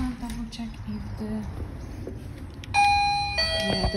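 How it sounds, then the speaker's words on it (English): A doorbell chimes clearly partway through, ringing out after some quieter background talk and handling noise. "the doorbell works."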